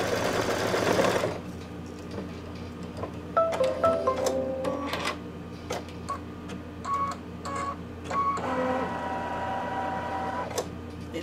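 Embroidery machine stitching the placement line for a Santa table runner: a steady mechanical hum with rapid repeated needle ticks and faint tonal chirps, after a brief louder burst at the start.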